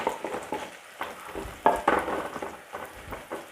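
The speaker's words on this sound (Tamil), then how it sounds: "பாருங்கள், வெங்காயம் நல்லா வதங்கிக்கிட்டு இருக்கு" Onions and green chillies sauté in a pan for a fish curry, giving a steady close sizzle and crackle with scraping stir strokes and a few louder spits, no talking.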